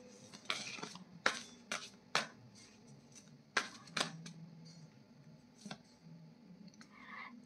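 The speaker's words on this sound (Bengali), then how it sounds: "আমি আর একটা কার্ড নেব।" Tarot cards being shuffled and drawn, heard as soft, sharp slaps and flicks of cards at irregular intervals, close and quiet, with no talk.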